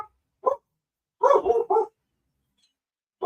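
Dogs bark from another room in a few scattered bursts: a single bark, then a quick cluster of three, then one more, fairly close and distinct, with no speech.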